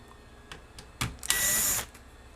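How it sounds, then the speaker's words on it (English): Screws being removed from the front panel of a Nakamichi CR3A cassette deck, a few short clicks and knocks followed by one loud, steady burst of a power screwdriver lasting about half a second, close by. "to get the front panels off of these things, it's just a matter of removing these screws"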